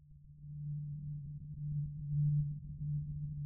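An Omnisphere granular synth patch in speed mode produces a low, grainy lo-fi soundbed, a quiet sustained tone with a faint randomized shimmer that swells gently and continues alone.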